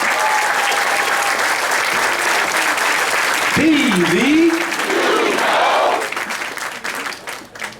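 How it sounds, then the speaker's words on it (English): An audience at a university athletic complex ribbon cutting gives students a loud, sustained round of applause that fades toward the end, while a voice speaks briefly over the clapping. "Everyone, please give our students a round of applause."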